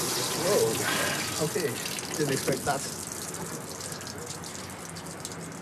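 Oil gushes from a jet engine drain into drip trays while the engine hangs on the wing. The pour surges at first, then settles into a steady splashing stream as a person speaks over it.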